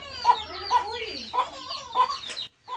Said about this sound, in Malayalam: ആൻറ്റിയുടെ വീട്ടിൽ ശരിക്കും കോഴികളുണ്ട് കേട്ടോ.